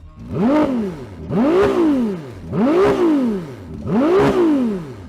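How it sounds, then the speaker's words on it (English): A Ferrari 296 GTB's twin-turbo V6 engine is revved four times in a steady rhythm, each loud rising and falling blip standing alone and close. "the Ferrari engine does sound kind of good. Have a listen to it."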